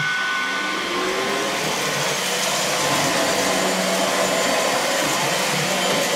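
A cordless 2-in-1 stick and hand vacuum with a HEPA filter sucks up lint and small hairs, giving a steady, loud whirring motor whine with a rushing airflow hiss that holds nearly unchanged throughout, close up with no voices.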